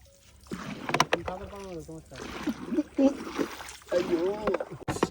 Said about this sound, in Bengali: আমরা এখন যাবো এই নৌকায় করে ওই পার